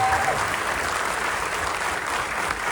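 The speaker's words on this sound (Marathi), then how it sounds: "जोरात टाळ्या" Loud, continuous clapping from a film premiere audience, an even dense roar of hands that holds steady throughout, with faint voices mixed in.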